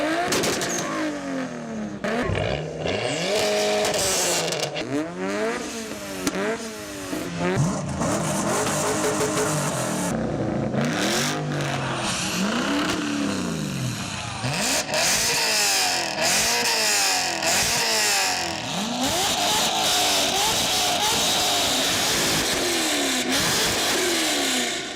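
A Ferrari 458 driven hard, its engine revving loudly and repeatedly with rising and falling sweeps, close and continuous with no pauses.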